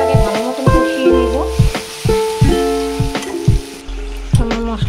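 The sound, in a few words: spice masala sizzling and being stir-fried in a pan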